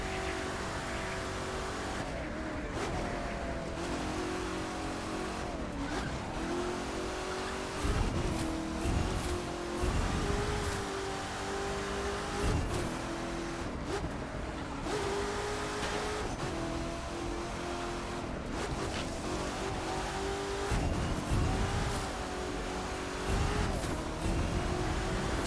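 Race car engine in The Crew 2 racing game, continuously droning and revving up loudly through gear changes as it accelerates out of corners, with no talk over it.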